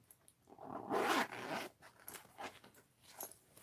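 A zipper is pulled open in one quick, raspy run near the mic, followed by lighter rustling and small handling noises.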